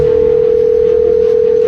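A telephone sounds one steady, unbroken electronic tone that holds loud and clear for nearly two seconds before cutting off.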